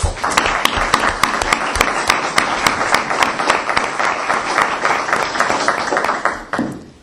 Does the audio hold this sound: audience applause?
yes